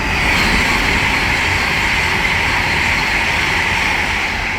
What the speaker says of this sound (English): right there is an Avanti West Coast Class 390 Pendolino from Liverpool Lime Street to London Euston